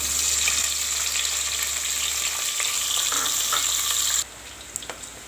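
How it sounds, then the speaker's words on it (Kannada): About a bowl of onions sizzles hard in two spoons of hot oil for Hyderabadi khichdi, a loud, dense, steady crackle that cuts off abruptly, leaving a few faint clicks. "2 ಸ್ಪೂನಷ್ಟು ಎಣ್ಣೆ ಇದೆ. ಈಗ 1 ಬೌಲಷ್ಟು ಈರುಳ್ಳಿ ಹಾಕ್ತಾಯಿದ್ದೀನಿ."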